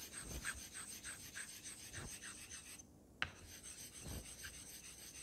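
A straight razor, a DOVO Forestal, is drawn in steady back-and-forth strokes across a hard Japanese Koma natural honing stone of roughly 10 to 12K grit, making a soft rhythmic rasp with brief pauses and a sharp tap between passes.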